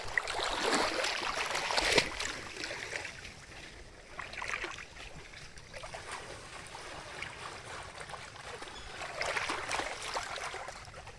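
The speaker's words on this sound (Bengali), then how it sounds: "এই যে দেখেন ঢেউ, কত বড় বড় ঢেউ" Waves wash and slap against a boat out on Tanguar Haor wetland, a moderate splashing that swells and fades in irregular surges, with wind in the background.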